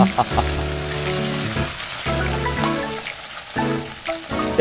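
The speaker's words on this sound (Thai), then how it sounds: "เรานำมาทอดเอาแล้วกันนะ" Leftover potato scraps fry in hot oil with a steady, dense crackling sizzle like light rain, close by and moderately loud, with a few brief clinks and knocks over it.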